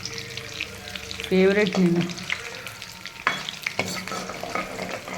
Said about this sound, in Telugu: ఇట్లా మంచిగా వేయించుకోవాలి